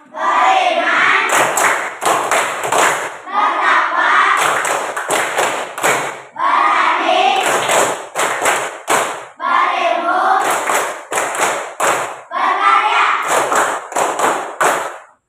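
A fifth-grade class performs a rhythmic clapping chant in five repeated patterned bursts, with sharp claps and thumps interleaved with children's chanting voices, loud and close.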